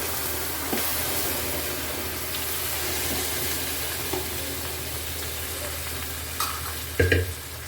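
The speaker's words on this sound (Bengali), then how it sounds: "সেদ্ধ ডালটা মিশিয়ে দিচ্ছি।" Boiled dal being stirred into a white pea curry in a pan, a continuous close bubbling sizzle with soft spoon scrapes and a louder clatter near the end, no talking.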